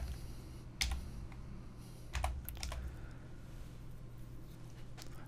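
Keys clatter on a computer keyboard while HTML code is typed, a steady patter of soft clicks with a couple of louder bursts, close and alone with no talk.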